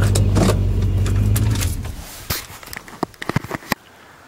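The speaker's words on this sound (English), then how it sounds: "I shall put it in four-wheel drive here" A truck engine idles with a loud low rumble that cuts off partway through, followed by scattered clicks, clunks and rattles close by.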